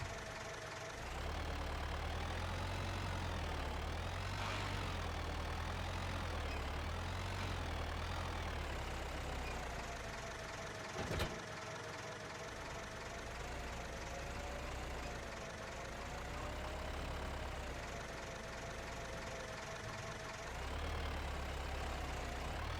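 A tractor engine idles in the video game Farming Simulator 25, a steady low rumble with a wavering tone that rises and falls slightly, interrupted once by a brief click, with no talking.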